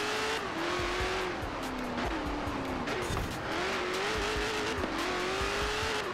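A 1,123 hp fully built Dodge Demon roars through a race in Forza Horizon 4, the engine holding a loud, steady drone that dips briefly at each gear change, with tires squealing through corners.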